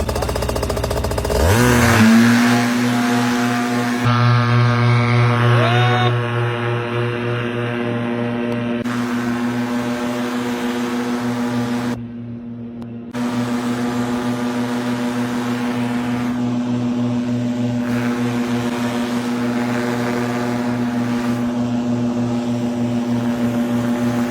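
A motorboat engine towing a parasail rises quickly in pitch, then holds a loud, steady droning hum with a brief drop midway, and no voices are heard.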